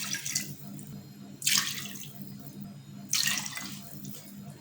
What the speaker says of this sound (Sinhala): දැන් මම මේකට වතුර කප් 3ක් දාගන්නවා.